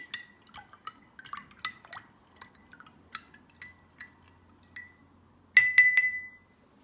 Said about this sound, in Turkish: Karıştırıyorum, karıştırıyorum. Çok iyi karıştırmam gerekiyor.